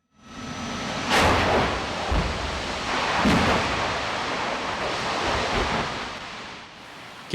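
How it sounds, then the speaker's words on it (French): Propylene, propane and acetylene gas cylinders exploding in a fire: deep, booming blasts and a roaring broadband rumble that swells and persists, with sharper bursts cutting through, loud and fairly close. "montre les boules de feu générées par l'explosion des bouteilles de propylène, de propane et d'acétylène"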